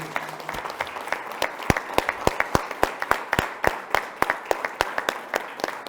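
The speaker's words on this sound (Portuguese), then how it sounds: "Palmas para os nossos amados, essa nova família." Guests at a church wedding ceremony clap together in a steady, rhythmic beat, with crisp, evenly spaced claps repeating for several seconds at moderate distance.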